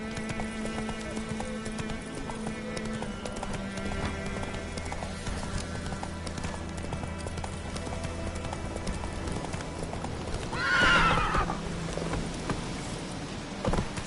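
Roach, a horse in The Witcher 3 video game, gallops with a rapid, continuous clip-clop of hooves, and near the end it lets out a brief, loud neigh over faint in-game music.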